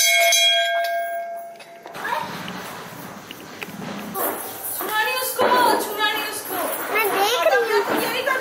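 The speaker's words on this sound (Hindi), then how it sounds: "हम घंटी बजा दें।" A temple bell rings clearly for the first couple of seconds during a village Diwali puja, its tone fading before children and adults begin talking loudly nearby.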